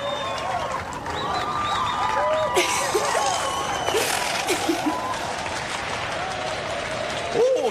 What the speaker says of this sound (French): Applaudissons très fort Kenny, le caribou.